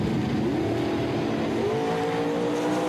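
A dragster racing down the drag strip at the Summer Showdown in Woodburn, Oregon, its engine a loud, steady roar with rising pitch sweeps as it accelerates, continuous for the whole stretch with no talk.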